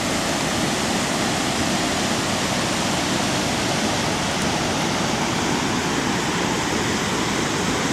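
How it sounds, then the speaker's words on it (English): Ingleton Falls waterfall swollen after heavy rain, a loud, steady, full-bodied roar of rushing water that stays close and constant throughout, with no voices. "It rained quite heavily yesterday, so there's a lot of water in the waterfall."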